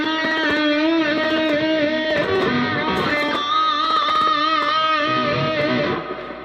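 A distorted electric guitar holds a bent note with vibrato, its pitch wavering steadily up and down as it sustains loud and close, then fades out near the end, with no talking.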